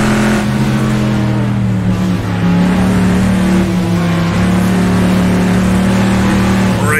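A Chevrolet Stingray Corvette in the Assetto Corsa racing game, set in a desert, its engine accelerating loud and steady through the gears with a rising, droning roar that fills the whole stretch.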